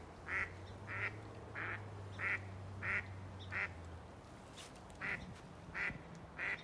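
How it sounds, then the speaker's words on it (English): An agitated duck quacks in a steady series of about nine sharp calls spaced roughly evenly, loud and close, over a low steady hum that drops away partway through. "So it seems like this duck is really upset"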